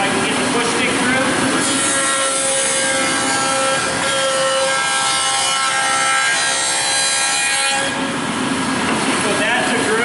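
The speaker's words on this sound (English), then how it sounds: "I'll just demonstrate making a groove going with the grain" A table saw rips a groove with the grain of a wooden board, a loud steady whining cut that holds for several seconds, then shifts as the blade leaves the wood near the end.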